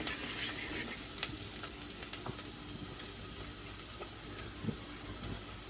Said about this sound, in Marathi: ढवळूया.